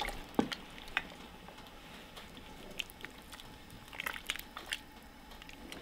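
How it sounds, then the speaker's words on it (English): Milk, cream and arrowroot soup being stirred in a pot, with soft scrapes and a few sharp spoon clicks against the pot over a quiet background. "We're just gonna slowly add this and then kind of give it a good stir"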